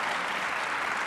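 Brief, steady applause from a television game show studio audience, a dense even patter of clapping with no voices over it.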